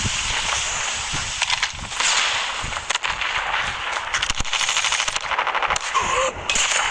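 Video game gunfire rattles out in rapid automatic bursts, loud and close, with brief pauses between strings of shots and no speech.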